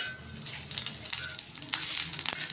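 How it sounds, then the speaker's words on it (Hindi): Garlic cloves frying in a pan, giving a close, steady crackling sizzle with sharp pops and spits over a low hiss, building slightly louder toward the end. "ये देखें बहुत ज़बरदस्त सी हमारी जो लहसुन की कलियाँ हैं वो फ्राई हो रही हैं"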